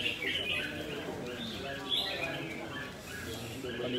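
Songbirds sing at a bird singing competition, with thin chirps and trills rising faintly over a dense background of crowd chatter and ambient noise.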